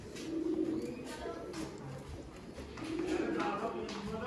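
Large breeder pigeons coo in soft, repeated rolling phrases close by, with someone talking over them for much of the time.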